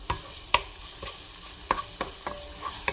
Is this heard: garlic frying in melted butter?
yes